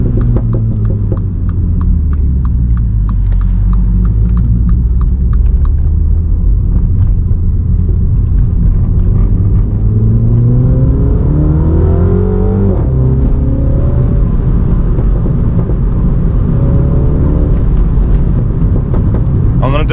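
MINI JCW F56 on its stock exhaust, driven with paddle shifts: a deep engine drone rising and falling in pitch as it revs, with a quick run of sharp crackling pops in the first few seconds.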